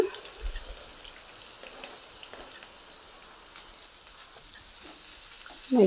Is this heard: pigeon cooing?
no